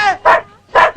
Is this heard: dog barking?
yes